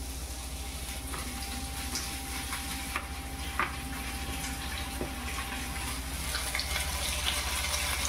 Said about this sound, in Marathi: ते असं तेलात सोडायचं